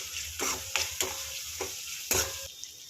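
Tomatoes and spices including turmeric, salt, red chilli and garam masala sizzle steadily in a pan while a spoon stirs them, giving several distinct scraping strokes over the continuous frying hiss, close and without talk.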